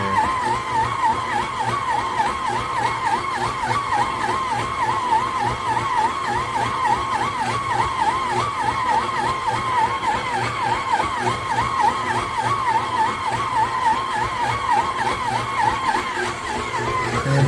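Kitchen in the box 6.5-quart 660-watt electric stand mixer kneading dough at a higher speed setting, a loud steady motor whir with a rhythmic pulsing strain running continuously throughout.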